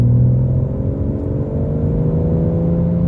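A BMW M140i with its gearbox in sport mode accelerates, a loud, steady engine drone rising gradually in pitch over a few seconds, close and without talk.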